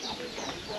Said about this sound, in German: Kleine Hühner.